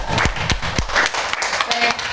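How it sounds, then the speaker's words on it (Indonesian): Audience at a school teachers' meeting clapping: a few sharp, rhythmic claps up close, then a looser patter of hands. "Baik, tepuk tangan dulu Bapak Ibu."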